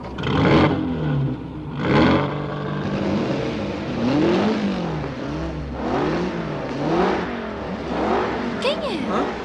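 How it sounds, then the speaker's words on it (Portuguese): Several race car engines at the start of a race rev and whine in rising and falling sweeps, fairly close, with a vehicle roaring past near the end. "Liguem seus motores."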